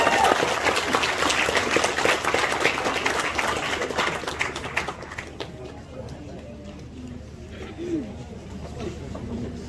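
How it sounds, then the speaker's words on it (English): Audience applauding contestants at a college freshers' day pageant, loud dense clapping filling the first half and fading out, leaving chatter and a few voices. "big applause for all the other contestants"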